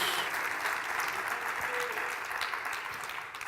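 Church congregation applauding during a sermon, a dense steady wash of many hands clapping together that holds at a fairly even level throughout.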